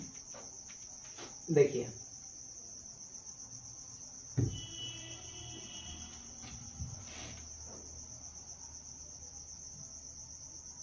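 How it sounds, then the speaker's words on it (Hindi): Steady high insect drone at night, cricket-like and continuous under sparse thumps and a brief spoken word, heard indoors where flies and mosquitoes buzz. "हम लोग नाइट में वीडियो बना रहे हैं जिसके कारण बस इसमें माछी और मच्छर गुनगुन आ रहा है"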